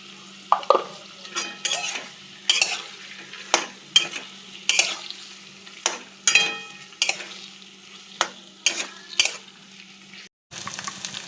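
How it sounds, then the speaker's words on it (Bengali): Ground spice paste frying in a pan and stirred in about a dozen rhythmic scraping strokes over a low, steady sizzle, close and clear with no talking. "বাটা মশলা কষা হয়ে গেছে"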